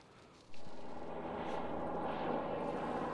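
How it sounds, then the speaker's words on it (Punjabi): A helicopter flies along the Tasman Sea coast in New Zealand, a faint, distant, steady rumble that swells in after a short quiet moment and holds. "ਇੱਥੇ ਫਿਰਦਾ ਹੈਲੀਕਾਪਟਰ ਇਹ ਫਿਰਦਾ ਹੀ ਰਹਿੰਦਾ"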